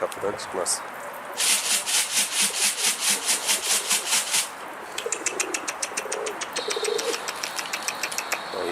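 A Çakmaklı Mardin pigeon on a windy day beats its wings in a rapid run of rhythmic flapping pulses, then a quicker, lighter clatter, close by and with no speech.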